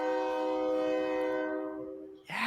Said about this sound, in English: The train horns are blowing.